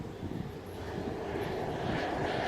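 Pilatus PC-12 turboprop aircraft at Leeds Bradford Airport, a faint, steady engine drone that grows slightly louder over a few seconds, heard at a distance without voices.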